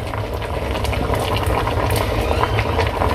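A pot of salted water for jardinière purée boils at a vigorous, constant roil, bubbling loudly and evenly throughout.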